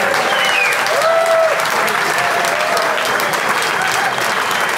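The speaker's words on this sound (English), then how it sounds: "now he's giving me the applause" Sustained applause from a comedy-club audience at the close of a stand-up set, a dense steady wash of many hands clapping with a faint whistle-like tone rising briefly above it.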